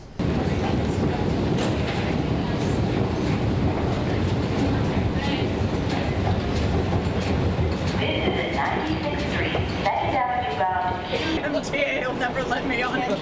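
New York City subway train riding on a newly opened line, a steady loud rumble and rattle of the car in motion, with people talking nearby and a chime-like tone near the end.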